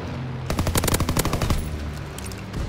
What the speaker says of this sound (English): the PPSH is like the best gun in this game